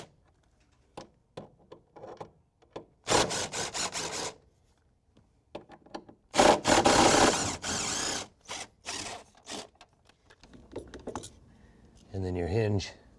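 A ratchet turns out the 10mm hinge bolts on a Samsung side-by-side refrigerator in several close, rapid bursts of clicking, with quiet gaps between them.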